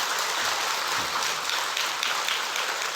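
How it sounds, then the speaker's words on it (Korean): A church congregation claps for the choir conductor and accompanist during a Sunday service, a dense, steady patter of many hands that fills the room evenly with no voices over it. "오늘은 특별히 지휘자 반주자를 위해서 한번 박수 한번 해주시면"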